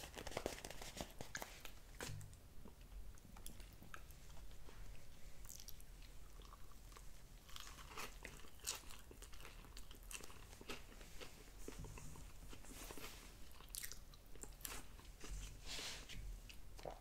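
Someone eats a Firehouse Subs Hook & Ladder sub sandwich up close, with steady soft chewing, occasional crunchy bites and wrapper crinkling running throughout at a quiet level.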